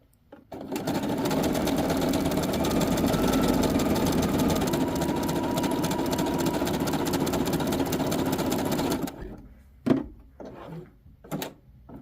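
A sewing machine runs a zigzag stitch along a raw fabric edge. It gives a close, loud, continuous mechanical whir for about nine seconds, then stops, and a few separate clicks and knocks from the machine follow.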